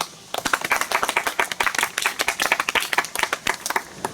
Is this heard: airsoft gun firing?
no